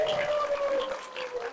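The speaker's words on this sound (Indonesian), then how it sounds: "Tepuk tangan dulu buat ibu saya teman-teman." At an Islamic preaching competition, an audience claps in a steady, dense wash while a sustained tone runs underneath.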